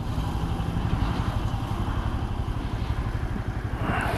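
Keeway 125RKR motorcycle riding through traffic, a continuous buzzing small engine under steady wind noise, holding an even throttle close to the rider.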